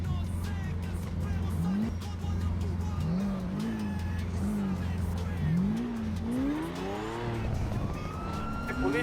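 A game SUV drives and revs with a steady engine drone, its pitch sweeping up repeatedly as it accelerates, while excited voices talk over it throughout.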